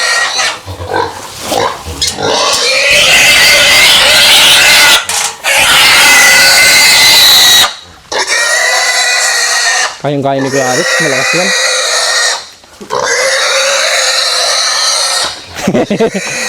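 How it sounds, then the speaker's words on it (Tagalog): A pig about to be slaughtered squeals loudly and repeatedly in long shrill bursts separated by short pauses, with people talking nearby. "Umiiyak ang baboy."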